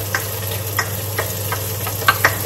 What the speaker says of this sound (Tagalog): Nagsasabay-sabay ko na yung ginigisa kong sibuyas sa bawang.